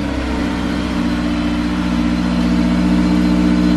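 Honda S2000 engine with a UK-mod exhaust, fresh black mufflers, new tips, factory header and cat, running with a steady, loud, close exhaust drone and a low rumbling tone, no talking.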